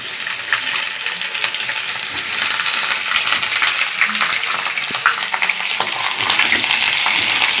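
Small pieces of potato fry in hot oil and are stirred, a loud, dense crackling sizzle with scraping and clinking from the stirring, heard close up and going on without a break.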